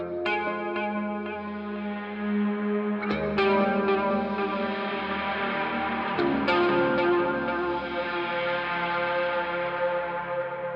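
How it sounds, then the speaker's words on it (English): Sustained ambient electric guitar chords ring out through heavy distortion, washed in shimmering chorus and a thick, echoing distorted reverb tail, with new strums every few seconds. "the sound was followed by a cloud of distorted reverb"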